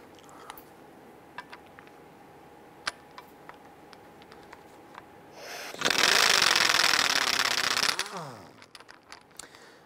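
An air gun hammers at a rusty front brake caliper pin on a 2005-2010 Chrysler 300, first faint ticks and taps, then a loud sustained rattling burst of about two seconds before it cuts off.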